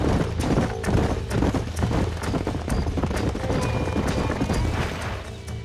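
Horses in the Western video game Red Dead Redemption clop and trot loudly with dense, overlapping hoofbeats, now and then a whinny over the rumble, close and continuous with no speech.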